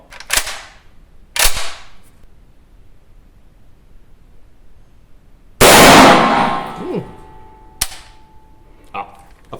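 An HK G3 or STG 58 battle rifle fires several sharp, loud single shots with gaps between them, followed by metallic clangs and handling noises. Brief voices are heard in between.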